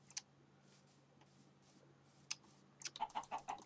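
A chicken in a blocky Minecraft-style video game clucks in a few short, soft bursts, the clucks bunching together toward the end over a quiet low hum.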